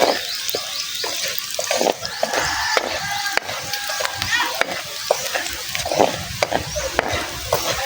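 Oil sizzles and fries steadily in a pan while cooking Bicol Express, with scattered sharp stirring scrapes and clicks, loud and close, and a voice briefly speaking.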